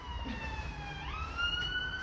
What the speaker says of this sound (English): And there's the siren.